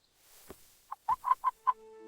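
A chicken on a farm clucks in a short close burst of five or six quick, clear clucks after a soft thump, ending in a brief drawn-out note.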